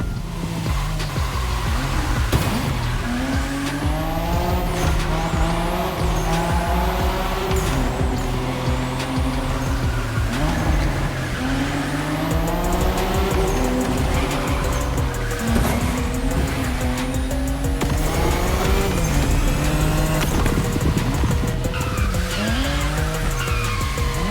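A car drifting in The Crew Motor Fest racing game, with a loud engine revving up and down through gear changes and long squealing tire skids, continuous and close with no speech.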